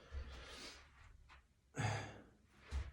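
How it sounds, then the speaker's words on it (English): Deep belly breaths in and out through the nose, taken in child's pose during a stretch session, come as three slow, airy exhalations with quieter inhales between them, close and fairly soft. "We're going to do a minute here of deep belly breathing. So breathe in and out through your nose."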